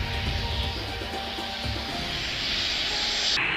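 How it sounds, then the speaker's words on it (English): A water bomber aircraft flies past, its engine drone a steady broad roar with a hiss on top that holds at an even loudness throughout. "The sight of a water bomber responding to a car accident is epic."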